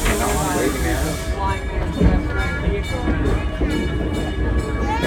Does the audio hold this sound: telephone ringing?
no